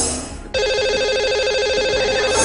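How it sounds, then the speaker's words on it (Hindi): A telephone line rings loudly and steadily as a television studio dials out to a lucky caller, with the electronic ring tone starting abruptly and holding to the end. "तो लगाते हैं इन्हें अब हम कॉल।"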